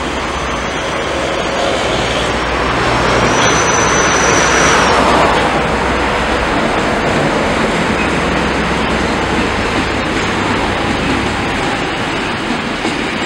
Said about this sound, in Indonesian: Kereta api kontainer kayaknya sudah diberangkatkan dari sinyal masuk stasiun